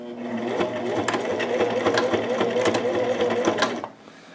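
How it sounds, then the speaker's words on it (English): Sewing machine stitching rank and nametape onto a patrol cap runs in a fast, steady whirring rattle for about four seconds, close and loud with sharp needle clicks, then stops abruptly. "you're just going to run the sewing machine forward and back a couple times, and that's going to create a locking stitch"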